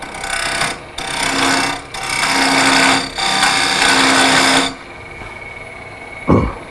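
A turning tool cuts a recess into a wooden ring bowl spinning on a lathe, loud rasping bursts of cutting broken by short pauses, then the lathe hums alone before a brief knock.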